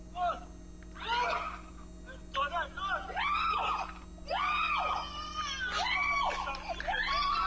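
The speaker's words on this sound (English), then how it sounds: "you can hear the mom screaming over there" A mother screams repeatedly in high, wavering cries, loud and close, during a coyote trying to drag off a child, over a steady low hum.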